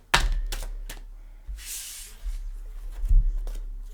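A deck of tarot cards is shuffled by hand in a quiet room, giving several sharp riffling bursts and soft slaps at uneven intervals, close and fairly clear.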